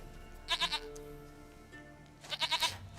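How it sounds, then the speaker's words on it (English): Goat in the video game The Witcher 3 bleating in two short bursts, each a quick run of three wavering, nasal calls, over a quiet ambient backdrop with faint tonal music. "Goat of mine, dearest, sweetest goat."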